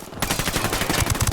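Rapid automatic gunfire in Tom Clancy's Ghost Recon Wildlands, a dense burst of close shots starting abruptly and continuing with steady rhythmic pops.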